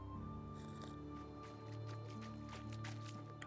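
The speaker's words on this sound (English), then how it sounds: "Drink some water." Wet squishing and dripping sounds come from drinking water at a river in the video game Medieval Dynasty, a few soft splashy bursts over a steady low ambient game hum, faint and with no talk.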